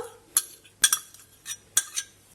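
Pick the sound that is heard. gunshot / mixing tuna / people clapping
mixing tuna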